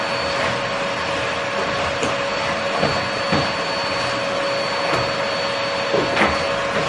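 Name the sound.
vacuum cleaner running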